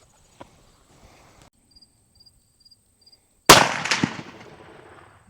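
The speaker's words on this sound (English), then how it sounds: "Okay, we're down here for the first shot at 100 yards." Muzzleloader rifle fired once at a 100-yard target while zeroing a Leupold scope, a single sharp, loud close blast that decays over about a second, preceded by faint outdoor quiet with soft insect chirps.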